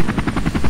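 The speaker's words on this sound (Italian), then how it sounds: "abbiamo visto la scena dell'elicottero" Loud, close helicopter with fast rhythmic rotor chopping, about eight even beats in under a second over a low engine rumble.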